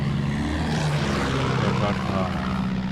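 An airplane propeller engine in the video game Far Cry 6, a loud steady droning hum with a rough, buzzing texture that holds throughout.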